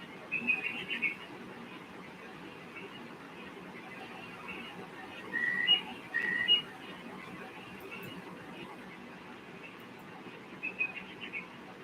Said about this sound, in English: I'm just sitting here listening to the birds, chilling.